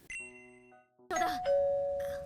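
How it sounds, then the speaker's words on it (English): A home doorbell in Japan chimes twice with a ding-dong tone, clear and fairly near, each ring ringing out before the next, with no talking. "It is so crazy how often people come ringing my doorbell."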